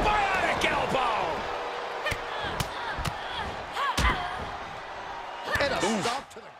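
A wrestler's elbow strike lands in WWE 2K23 with several sharp slamming thuds, spread across a few seconds and followed by a heavier crash near the end. Commentary talk and a crowd murmur run underneath.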